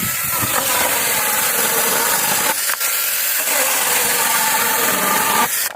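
A GTM CS18/127BL cordless battery saw cuts through wood outdoors, a loud, continuous rasping whine close to the mic with a brief dip partway through before it stops near the end.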